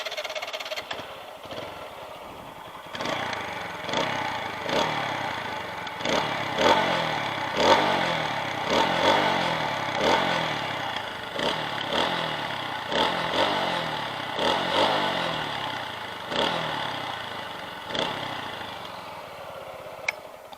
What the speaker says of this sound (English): So let's hear the exhaust note on this thing.